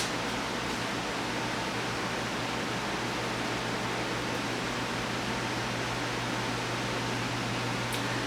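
A server machine's cooling fans run through a reboot, a steady broadband whoosh with a low hum, continuous and fairly even for the whole stretch.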